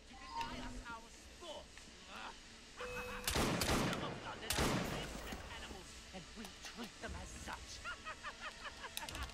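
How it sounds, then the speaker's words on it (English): Gunfire in Assassin's Creed Syndicate, with two loud bursts of shots in the middle of the stretch, set against steady game ambience and a talking voice. "I will fucking just shoot you"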